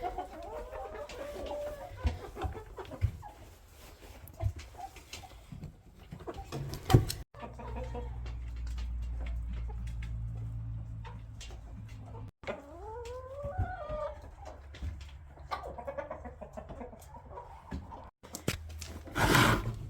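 Hens and a rooster on a homestead cluck on and off for about twenty seconds. The calls are mostly soft and close, with occasional louder squawks over low rumbling handling noise.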